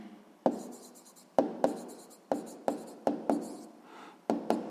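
Chalk writing maths figures on a classroom board in a sixth-grade lesson, a series of sharp taps and scratchy strokes in short bursts, close and clear, with no talk over it.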